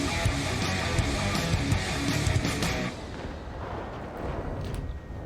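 The 122mm gun of the WZ Blaze tank in WoT Blitz fires in several heavy, booming blasts during the first half, followed by a lower rumbling engine and battle ambience as the shots stop.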